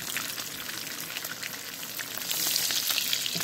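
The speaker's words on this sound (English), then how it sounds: "I put some vegetables and then fry the tomatoes," Tomatoes, onion, garlic and vegetables frying steadily in a pan for an eggplant omelette, giving off a loud, continuous crackling sizzle that swells slightly toward the end.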